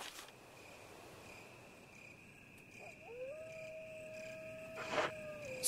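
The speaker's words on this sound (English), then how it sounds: "Sounds of dogs is never good." Dogs howl in Resident Evil HD Remake: one faint, drawn-out howl rises and then holds a long steady pitch, set against a quiet, insect-like background hum.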